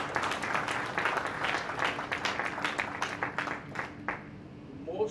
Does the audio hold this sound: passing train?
no